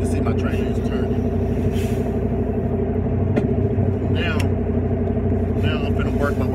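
A semi truck backs up toward its trailer, its engine idling in a steady low hum with brief air hiss and clanks on top while someone talks over it.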